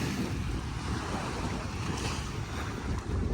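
Surf washing onto the shore at Barangay Bukana in Nasugbu, Batangas, a steady broadband rush with no distinct breaks, mixed with wind noise on the microphone, continuous and fairly close, with no talk.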